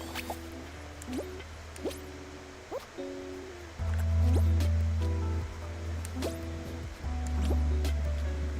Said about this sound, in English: That's the first area with the waterfall and the water spraying out and everything.